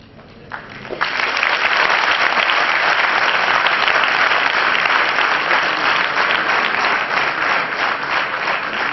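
Sustained audience applause at a guest lecture in Pune, a dense steady clapping that swells in after a brief quiet start and holds loud and even to the end.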